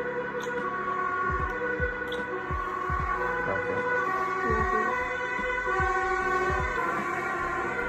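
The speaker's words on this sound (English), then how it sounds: "It's like they got all the emergency vehicles to stay." Emergency vehicle sirens wail along an Amsterdam street, loud and steady, with rising and falling tones layered over continuous city traffic rumble.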